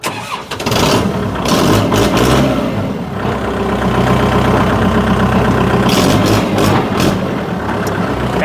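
A used Kubota-type farm tractor with about 1,952 working hours starts up and settles into a loud, steady diesel rumble, close by and continuous with no talking.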